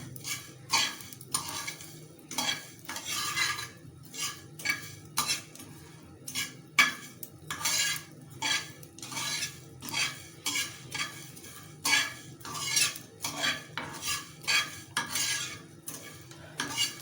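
Whole coriander seeds dry-roasting in a pan, stirred with a utensil in repeated scraping, rattling strokes over a faint crackle; close and fairly loud with no talking.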